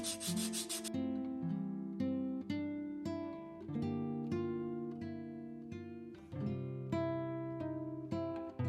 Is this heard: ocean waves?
no